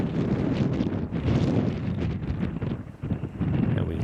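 Steady gusting wind roars across a disc golf course, buffeting the microphone in a loud continuous rush that swells and eases, with no voices heard.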